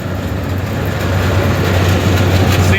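A rebuilt Clipper Super 68D grain cleaner with a VFD package runs steadily, giving off a loud, dense mechanical rumble with a low hum and faint rattling throughout, close by and without talk.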